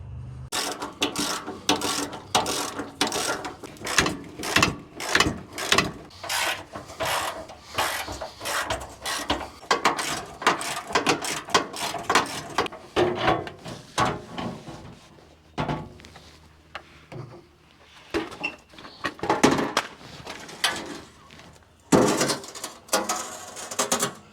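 Four bolts coming off the front bumper of an E-450 RV, heard as a long run of rapid ratcheting wrench clicks in bursts with brief pauses and metallic rattles, close and alone.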